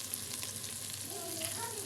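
Slit green chillies frying in oil for mash daal produce a soft, even sizzle with a faint hiss throughout, quiet and close.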